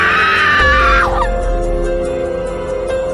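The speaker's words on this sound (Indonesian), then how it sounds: "dengan suara jeritan Dika yang semakin jauh dan menghilang" A horror-story scream sound effect starts loud and high, then slides downward and fades away within about a second, leaving a low, dark rumbling drone.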